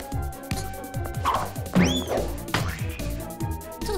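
A pie gets knocked over and crashes in a French Polly Pocket cartoon: a sudden smash and clattering with whooshing sweeps over bouncy background music, with no voices.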